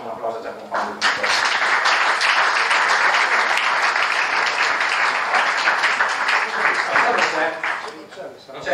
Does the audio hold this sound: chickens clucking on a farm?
no